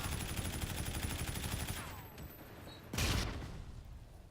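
Bursts of automatic gunfire crackle in Call of Duty: Modern Warfare Remastered, a rapid sustained volley that cuts off, then a single sharp loud shot rings out after a brief lull.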